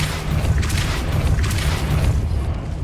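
In the Hogwarts Legacy video game, a Depulso spell blast lands as a deep rumbling boom with a crackling burst on top that fades over a few seconds, heard alone without talk.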